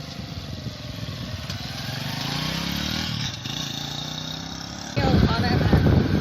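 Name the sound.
Honda CD 70 motorcycle engine running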